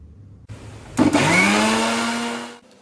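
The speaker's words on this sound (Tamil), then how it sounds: "முதலில் நம்ம ஆப்பிள் துண்டுகளை அரைச்சிடலாம்." A kitchen blender starts up and grinds green apple pieces for juice, rising to a loud, steady whir for about a second and a half, then cutting off abruptly.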